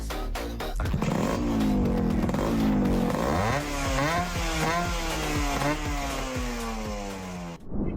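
A Yamaha RXZ two-stroke motorcycle engine revs hard and loud up close, its buzzing crackly pitch climbing through repeated gear-like rises before cutting off abruptly.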